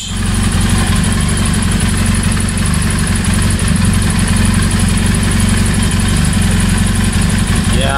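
A sports motorcycle engine, exposed, idles loudly and steadily at close range, a constant rumble with a fine rapid throb that runs unbroken throughout.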